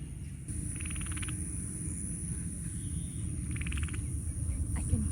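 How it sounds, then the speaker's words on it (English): Frogs croak in rhythmic bursts from water beside a hillside waterfall area in Jawhar, Maharashtra, fairly faint over a steady low rumble of rushing water. "There's some frogs croaking."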